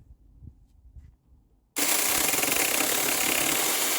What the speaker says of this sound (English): this chainsaw cuts through this thick piece of wood easily